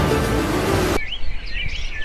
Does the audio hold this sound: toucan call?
yes